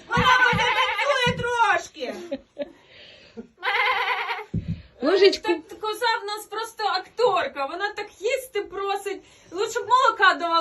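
During a Ukrainian Christmas carol play, a person imitates a goat with loud, wavering bleats, repeated in bursts, mixed with talk and laughter from others nearby.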